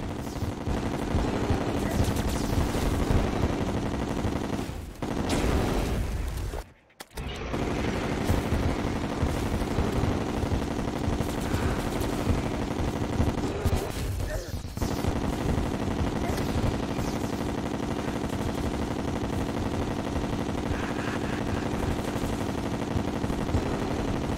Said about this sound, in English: I'm going to be using Chlorophyte Bullets, just so I can be more consistent with my damage